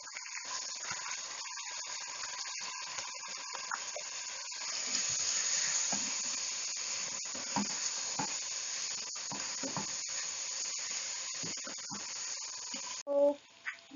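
Mash dal (urad lentils) fry with onions in oil, giving a steady low sizzle and hiss with scattered crackles throughout, then a short clink at the end.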